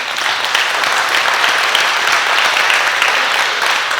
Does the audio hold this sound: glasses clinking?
no